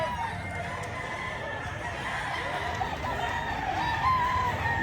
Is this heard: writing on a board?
no